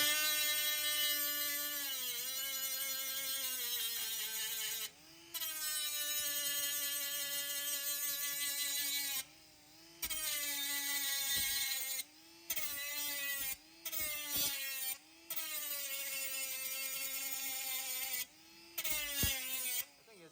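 An angle grinder with an 80 grit disc working a laser weld, a steady high whine with harmonic overtones that dips in pitch under load and cuts out in several short breaks, close and loud.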